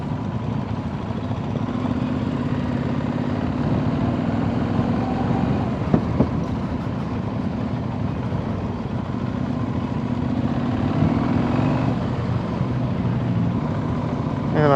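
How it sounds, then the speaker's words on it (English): A motorcycle engine at low revs, close to idle, running smooth and steady at an ABR Festival ride, a continuous near rumble with a slight swell toward the end. "these low revs, pretty much an idle, it's fairly smooth"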